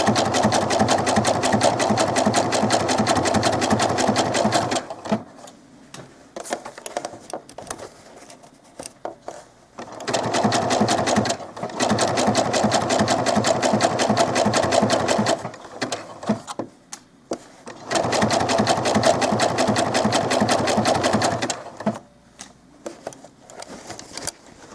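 A sewing machine stitches a sleeve into small doll clothes in three long steady whirring runs of about five seconds each, separated by short pauses with faint handling noise, close and alone.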